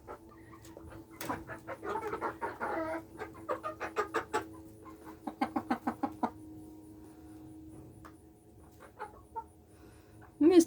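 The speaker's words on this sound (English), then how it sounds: "These are some sweet birds." Polish chickens clucking nearby in scattered bursts, with brief rapid runs of clucks and pauses between, fairly quiet overall, ending with a sharper, louder call.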